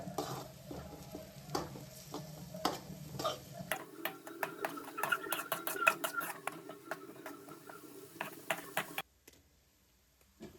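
Food fries in a pan toward browning, with a soft sizzle and a run of quick, light clicking and tapping strokes in the middle, faint and close, before it cuts to near silence.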